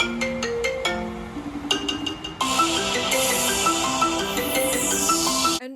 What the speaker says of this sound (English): my ringtone is like a remix of the marimba ringtone with the Stranger Things